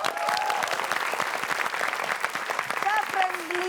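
A live studio audience claps loudly and steadily through the whole stretch, with a few short voices and whoops rising over the dense applause.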